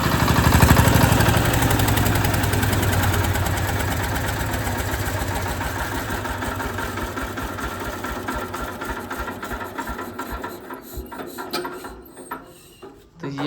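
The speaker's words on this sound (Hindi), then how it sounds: "हाँ चलो जनरेटर भी बंद करते हैं" Generator engine on a dairy farm running with a loud, steady mechanical drone close by, gradually winding down and sputtering toward the end as it shuts off, with no talking.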